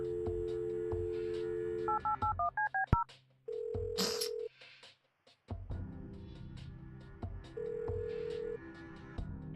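Telephone dialing in the video game Kathy Rain: a quick run of about eight two-tone keypad beeps, then a brief ringing tone, a sharp click and later another steady tone, clean and close with no talk.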